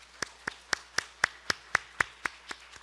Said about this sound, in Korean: 큰 박수로 함께 축복하겠습니다.